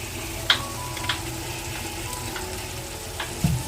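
Sauces, including green chili, Schezwan, black sauce and red chili, poured into chicken biryani frying in a pan give a steady, close sizzling hiss throughout, with a few soft clicks and stirring knocks.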